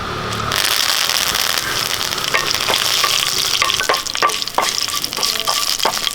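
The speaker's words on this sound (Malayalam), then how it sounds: "കുറച്ച് കടുക് ഇട്ട് കൊടുക്കും കാൽ ടീസ്പൂൺ ഉരുവ ഒരു മൂന്ന് വറ്റൽ മുളക് മുറിച്ചത് രണ്ട് കറിവേപ്പില" Mustard seeds, dried red chillies and curry leaves spitting and frying in hot oil for a Kerala curd curry tempering: a steady close sizzle with scattered sharp pops and crackles throughout, no voices.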